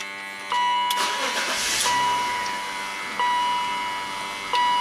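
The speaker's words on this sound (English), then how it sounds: "So I'm going to start the car" A car engine with a misfire cranks and turns over, then settles into a steady running hum, with a faint electronic beeping tone repeating in the background.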